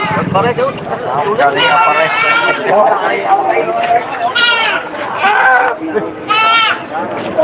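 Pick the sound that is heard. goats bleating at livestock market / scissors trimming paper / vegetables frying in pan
goats bleating at livestock market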